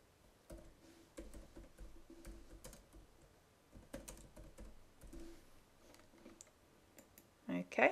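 Computer keyboard typing in accounting software, a run of quick light key clicks in irregular bursts, fairly close, with someone talking over parts of it.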